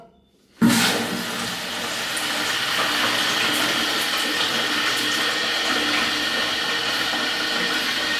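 Water gushes into a freshly reinstalled toilet cistern once the supply is turned on, starting abruptly after a brief silence and continuing as a steady, close rushing hiss.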